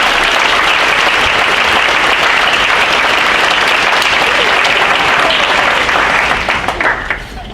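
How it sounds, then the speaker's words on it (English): An audience at an honors night award ceremony gives a big round of applause, a thick, continuous wash of clapping that holds strong and then thins out near the end. "let's give them all a big round of applause"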